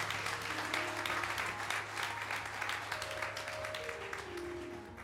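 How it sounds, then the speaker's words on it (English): A church congregation at a morning worship service claps hands in praise, a soft, even wash of applause with sustained organ or keyboard tones underneath throughout. "let's just give God a hand clap of praise for our children"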